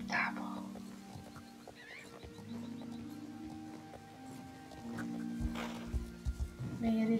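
Horses neighing in the Star Stable Online video game, several whinnies rising and falling over about seven seconds with hoof clops near the end, moderately close amid a faint ambient background.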